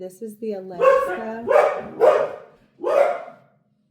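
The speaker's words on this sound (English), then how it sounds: "Excuse the dogs." Several dogs bark at home in a run of four loud, sharp barks close by, with a person speaking briefly at the start.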